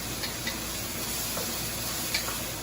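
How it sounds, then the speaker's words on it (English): Shrimp hitting a hot pan for shrimp fried rice, with a steady sizzling hiss of frying and a few faint clicks and ticks scattered throughout. "Drop those shrimp in there."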